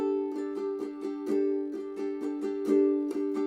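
A ukulele is strummed in a quick down-and-up pattern, with around a dozen sharp strums over a sustained chord. The rhythm is steady and close, the instrument plays alone, and no one talks.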